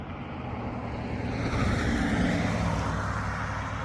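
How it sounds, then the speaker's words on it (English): A truck passes by on a chilly, frosty morning outdoors, a broad rumbling roar swelling to a peak mid-way and easing off, with some wind noise over it. "And there goes a truck."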